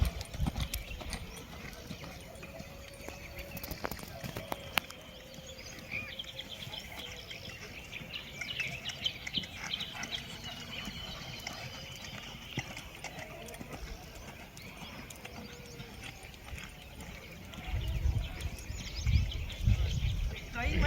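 Horse hooves clip-clop on the ground during a horsemanship training workshop in Vellore, uneven steps at moderate distance with birds chirping and people talking now and then.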